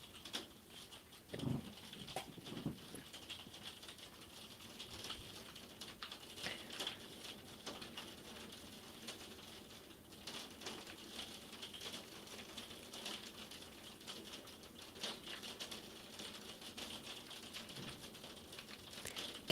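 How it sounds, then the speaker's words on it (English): Hail pelting outside, a dense, irregular patter of small hard ticks and taps that continues for the whole stretch, moderately quiet and with no talk. "Can you guys hear me over the hail, or is that getting too loud?"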